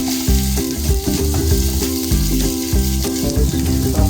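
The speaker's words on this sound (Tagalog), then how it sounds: "mainit na yung mantika, igisa na natin itong sibuyas," Onion and garlic sauté in hot oil for pinakbet, a loud, continuous sizzle close by, overlaid with rhythmic tonal music, with no talk.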